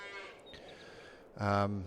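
Dairy cows in a farming video game give a loud, close moo near the end, following a quieter stretch of low in-game background sound.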